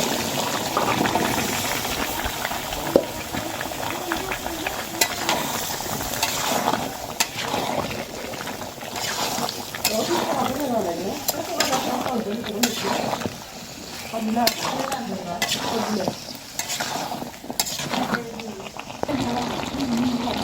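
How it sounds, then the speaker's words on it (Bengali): Pieces of sweet pumpkin being stirred into braised meat in a cooking pot, with a soft, continuous simmering and bubbling broken by scraping and stirring knocks at irregular intervals, close and moderately quiet. "মাংসগুলো কষানো হয়ে গেছে এখন আমি এর মধ্যে মিষ্টি কুমড়াগুলো দিয়ে দিলাম"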